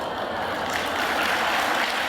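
A church congregation claps briefly during a sermon, a soft, even patter of many hands with no voices over it.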